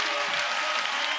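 Crowd at a FIBA 3x3 World Cup basketball game between Latvia and Austria, a brief burst of loud, dense cheering and applause.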